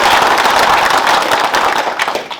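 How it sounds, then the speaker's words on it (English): A round of applause for a performer at a Chilliwack Rotary Christmas event: loud, dense clapping from a crowd, sustained and then beginning to thin out toward the end. "let's give her a round of applause"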